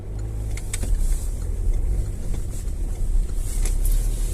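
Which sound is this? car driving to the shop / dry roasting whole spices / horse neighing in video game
car driving to the shop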